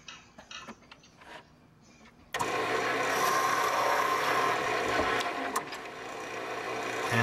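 A lathe spins cherry wood as a carbide bit cuts into it, starting with quiet ticking, then a sudden loud, steady hiss of the tool scraping the workpiece that continues to the end.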